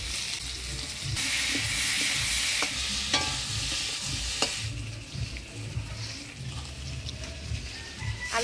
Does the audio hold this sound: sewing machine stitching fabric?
no